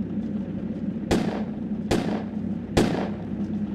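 Three heavy artillery blasts from the World War II strategy game Sudden Strike 2, Battle of Anzio, sound at even intervals over a steady low battlefield rumble, each one a sharp loud crack with a short decaying tail.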